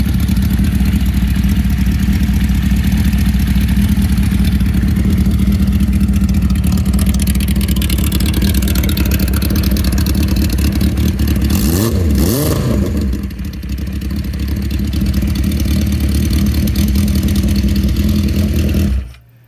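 A 1980 Honda CB650 café racer's engine runs loud and steady close by, with a brief rev rising and falling near the middle before the idle cuts off at the end.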